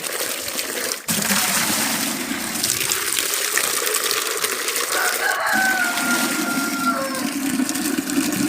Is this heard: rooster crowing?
yes